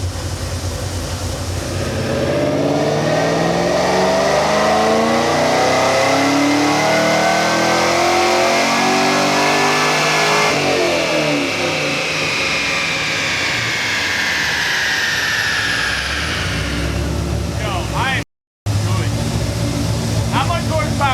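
A car engine revs steadily upward through a long dyno pull, rising in pitch and loudness, then cuts off abruptly before settling back down.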